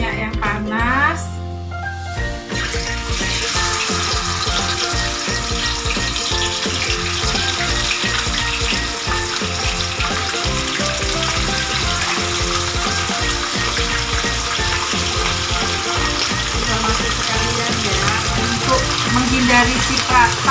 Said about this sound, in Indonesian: kemudian bisa kita goreng di minyak yang panas